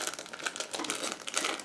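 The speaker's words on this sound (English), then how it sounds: "Now I'm opening the last plastic bag." Plastic bag of 1/48 Zoukei-Mura F-4J model kit parts being opened, giving a steady close crinkling and rustling that runs throughout with no talk.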